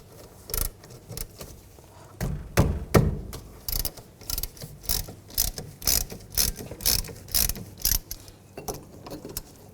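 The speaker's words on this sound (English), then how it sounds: "Use a 14mm wrench or 14mm socket and take these two caliper bolts off." A 14mm socket ratchet loosening rear brake caliper bolts on a 2002-2006 Nissan Altima, with repeated close, loud bursts of rapid pawl clicking in a steady rhythm, separated by short pauses, no talking.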